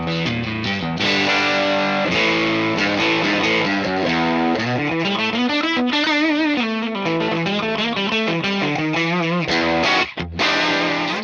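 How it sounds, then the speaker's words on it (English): Electric guitar through a Fractal Audio amp modeler with tape preamp, drive, saturation and room reverb, playing distorted sustained chords and melodic bends steadily with a brief pause near the end. "Let's go for a little bit of a tape preamp in there. I'll add a bit of drive and saturation."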